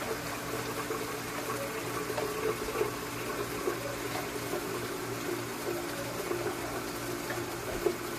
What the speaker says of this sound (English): going to fill up our pot of water for our lunch